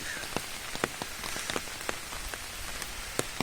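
Heavy rain falls on a pond outside a temple in Rajpur. A steady rushing patter carries frequent crisp nearby splats of individual drops scattered unevenly throughout.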